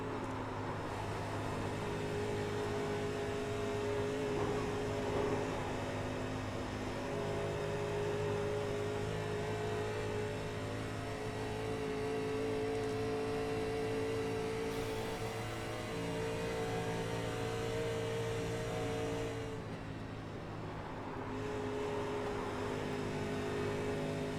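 Simulated NASCAR race car lapping Daytona in a NASCAR Legends video game, a steady droning engine tone holding nearly constant pitch throughout, with a brief dip near the end before it resumes, no talking.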